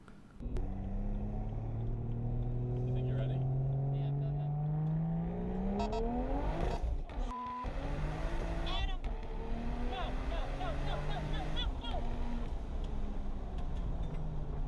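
A BMW 335i pulls hard under acceleration, its engine note rising steadily through the gears with a short break at a shift, loud and close, while someone talks over it.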